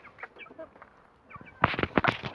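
Brahma chickens and roosters clucking close by in a coop, first with soft scattered clucks, then a louder burst of overlapping calls toward the end.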